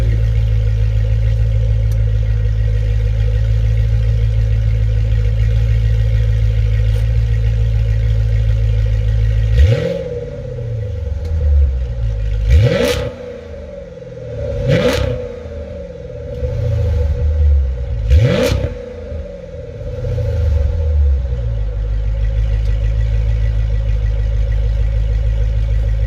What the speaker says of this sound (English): let's see if we can get y'all some revs